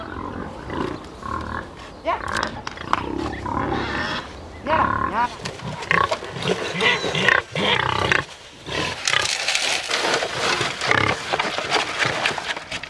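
Pigs on a farm at feeding time, when soup is served, squeal, grunt and oink loudly and continuously, a close, busy chorus of several animals with brief pauses.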